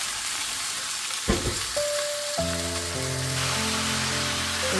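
Mixed vegetables including cabbage-like greens and celery leaves frying in a pan, a continuous close sizzle with a burst of clatter as ingredients go in, then an even hiss with no talking.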